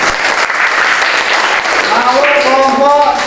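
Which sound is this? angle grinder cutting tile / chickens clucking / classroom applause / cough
classroom applause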